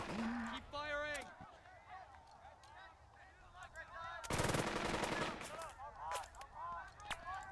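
Machine-gun fire in the Burden of Command video game rips out in one short, loud burst midway, while someone talks over most of the surrounding moments.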